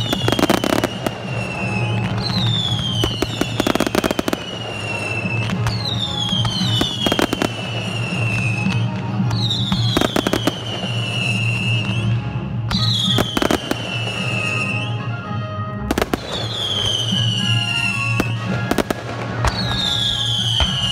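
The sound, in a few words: fireworks rockets and firecrackers exploding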